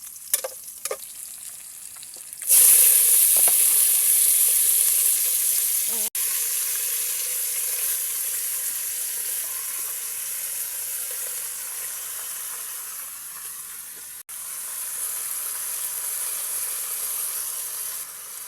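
A loud sizzle erupts after a couple of quiet seconds as tilapia hits a hot pan, then settles into steady frying hiss.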